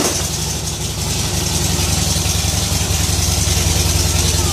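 A motorcycle engine idles close by, a steady low throbbing rumble with a slight rattle that holds even and continuous for a few seconds, no voices over it.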